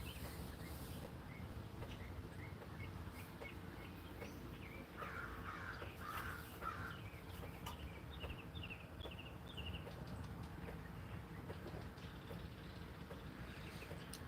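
Birds call outdoors at dawn, with scattered crow-like caws and soft chirps drifting over a steady background hiss, distant and faint.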